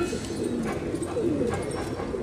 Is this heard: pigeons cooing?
yes